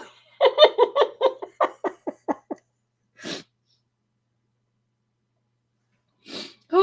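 A person gives two sharp, breathy sneezes a few seconds apart, preceded by a run of close, rhythmic laughter, with silence between the bursts.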